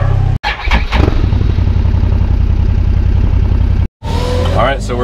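Engine of a Can-Am Defender HD11 Limited utility buggy running steadily and fairly loud from inside the cab, with a brief cut-out and a voice talking over it near the end.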